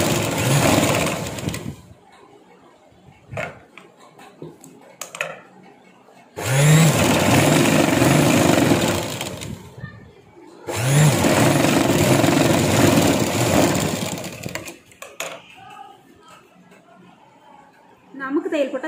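A sewing machine runs in long bursts stitching down the border of a 38-inch blouse, a loud steady whir that stops and restarts, with someone talking during the pauses.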